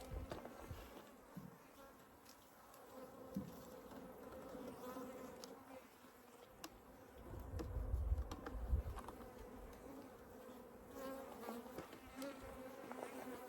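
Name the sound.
honey bees buzzing from nucleus colony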